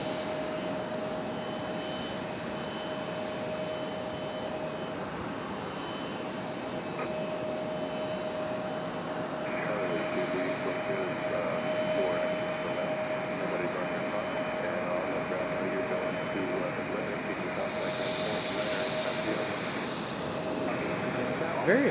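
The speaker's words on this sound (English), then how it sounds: "This arrival is an Embraer E175, American Airlines coming in from Cincinnati." An American Airlines Embraer E175 regional jet arrives at Raleigh-Durham airport from Cincinnati, its engine whine and roar holding steady and strengthening midway through, with faint voices in the background.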